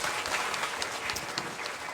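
Church audience applauding warmly at a festival service, a steady dense clapping that fills the room without pause, fairly loud and close with no talk over it.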